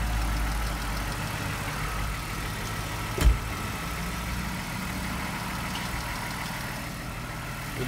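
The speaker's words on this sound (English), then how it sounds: "well, the car is still running, of course." A jump-started car engine idles steadily and low throughout, with one brief knock partway through and no voices.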